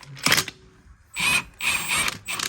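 Socket wrench ratcheting to loosen a bolt on a John Deere lawnmower's steering, heard as a short click burst followed by two longer, louder stretches of metallic ratcheting, close up and without talk.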